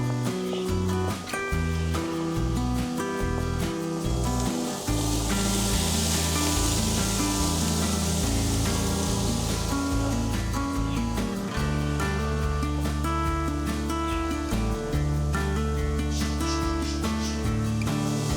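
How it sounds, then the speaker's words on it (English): Onions and carrots searing in a hot pan make a broad, continuous hiss and sizzle that swells in the middle, partly masked by loud background music. "we don't want to cook them. We just want to be searing these vegetables."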